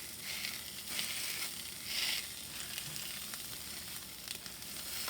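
Tofu sizzling in a frying pan, a quiet, steady hiss with soft crackles and a few small swells as pieces are flipped, no talking.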